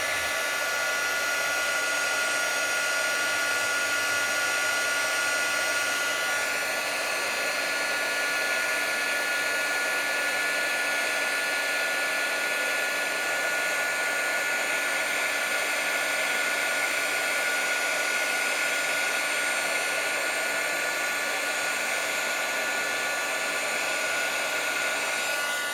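A heat gun blows steadily and loudly for the whole stretch as it heats embossing powder on a stamped craft layer, making a constant airy whoosh with a faint motor whine and no talk.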